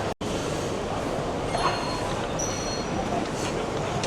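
A double-decker passenger train in Katoomba, NSW rumbles steadily as a broad, close wash of rail noise with faint high squeals over a low roar throughout.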